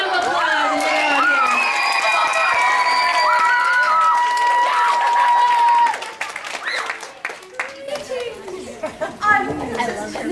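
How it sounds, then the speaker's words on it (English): An audience of children and adults claps and cheers for a costumed princess visitor, steady loud applause with high shouts for about six seconds, then breaking into scattered claps and chatter. "Can everyone give Miss Princess Penelope a big round of applause?"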